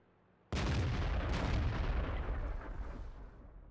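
A single heavy artillery shot from World of Tanks, a sudden loud boom that bursts from quiet and rumbles on, fading slowly over a few seconds.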